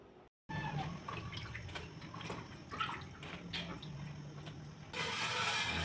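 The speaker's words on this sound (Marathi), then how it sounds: "सुरुवातीला मी भेंडी स्वच्छ धुवून घेते." Okra is washed clean in water, giving soft sloshing and splashing with small drips, faint and close in a kitchen, and a steadier rush of water near the end.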